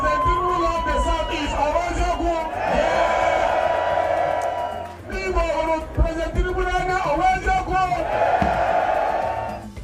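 A large crowd at an official ceremony in Abuja cheers and shouts greetings, a loud, sustained roar of voices that swells and dips across the whole stretch, with bursts of whooping and calling over it.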